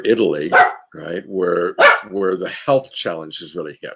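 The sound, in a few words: dog barking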